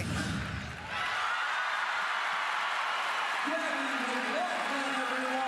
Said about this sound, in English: Crowd is hyped up about it as well.